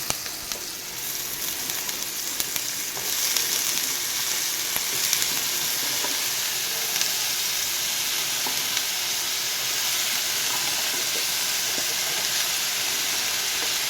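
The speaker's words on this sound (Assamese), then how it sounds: "তাৰপিছত এয়া দি দিম কাটি থোৱা তৰকাৰীখিনি।" Chopped mixed vegetables hit hot oil in a pan for a mixed vegetable curry, then sizzle and fry loudly and steadily, a close continuous crackling hiss with faint stirring scrapes and no voices.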